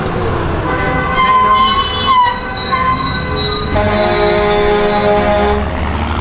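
Metal wheels squeal loudly and continuously as repurposed school buses used for public transport in El Salvador roll past, with a low rumble underneath.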